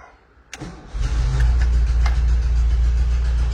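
A click, then a brief crank as the engine of a 1978 Volkswagen T2b Westfalia camper van starts in neutral and settles into a steady, low rumbling idle close by.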